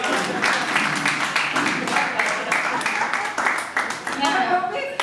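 An audience applauds at a Hindi poetry gathering held for a birthday, with dense, sustained clapping from many hands filling the room, moderately loud and continuous before tapering slightly.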